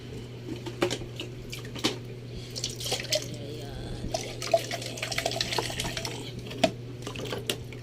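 A smoothie container is washed under a running kitchen tap, with a steady trickle of water broken by splashes and clinks, over a low electrical hum.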